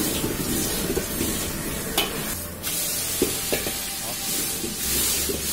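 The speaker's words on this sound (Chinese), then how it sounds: "翻面再煎5分钟。" Tofu pan-frying in oil in a wok over medium heat, a steady sizzle with occasional stirring and clinks of a utensil against the pan, while a voice says a brief word.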